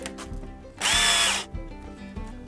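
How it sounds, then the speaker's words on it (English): A cordless drill with a weak, low battery whirs loudly for about half a second at close range, then cuts out. Quieter clicks and knocks from the work on a cedar box follow. "that's when your drill runs out of battery, always in moments like this"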